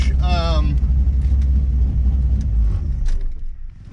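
Low steady engine rumble from a supercharged LT1 car cruising in sixth gear at about 60, running rich, heard from inside under a brief voice before the drone fades toward the end.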